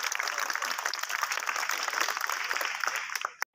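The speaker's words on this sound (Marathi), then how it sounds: "सर्वांनी टाळ्या वाजवायच्या" Students and staff applaud together at a school welcome ceremony for new fifth-grade pupils, a continuous, fairly distant patter of clapping that cuts off abruptly near the end.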